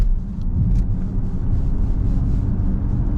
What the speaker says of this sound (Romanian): Cât de cremos e motorul ăsta